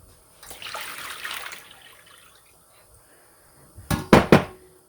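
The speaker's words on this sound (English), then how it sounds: "I'm filling it with just cold water" Cold tap water runs into a bin in a short, soft burst of splashing, then a quiet pause before a few louder knocks and splashes close by.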